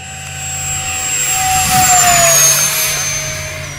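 An E-flite Habu SS 70mm EDF RC jet screams past at full throttle, a loud steady ducted-fan whine with a pitch that sweeps downward as it passes, swelling and fading over a few seconds with no talk.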